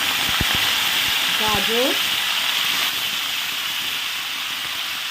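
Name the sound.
vegetables frying in hot oil, cauliflower first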